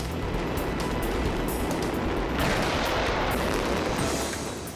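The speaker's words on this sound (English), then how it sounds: "the bridge will literally burst into flames as wave after wave of low and medium fireworks are set off throughout the show" Waves of low and medium fireworks bursting over the river at Thunder over Louisville, a continuous loud barrage of crackling, thudding explosions with no pauses, heard from a distance.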